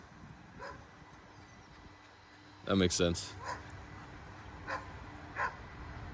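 Dog yelping in a sharp burst of barks and whimpers, followed by a few softer yips, near and under a voice speaking.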